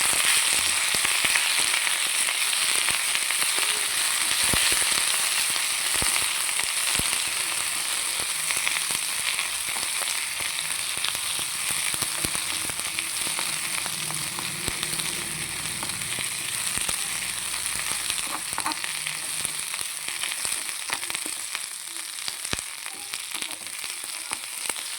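Curry leaves frying in a pan for pongal, a continuous bright sizzle with scattered crackles and pops, close and steady for the whole stretch.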